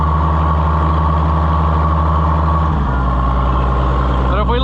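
An Oliver 77 Rowcrop tractor engine with a leaking fuel supply idles steadily and close by, its low, even drone shifting pitch slightly partway through as it keeps running.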